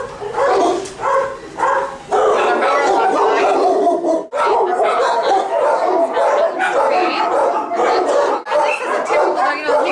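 Many dogs in an animal rescue kennel bark and yelp at once in a loud, echoing chorus, overlapping continuously with only brief pauses.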